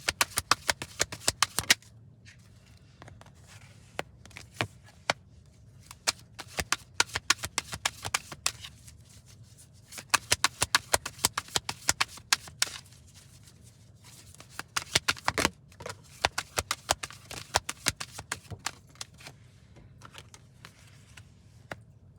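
Tarot cards are shuffled by hand in repeated quick bursts of riffling and slapping, close and crisp, with short pauses between rounds and a faint low hum underneath.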